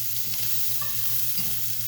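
Eggs being stirred together in a frying pan on the stove, a soft continuous sizzle with faint scraping strokes, quiet and close, no voices.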